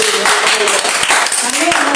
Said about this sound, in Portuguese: Aplauda o nome do Senhor com mais alegria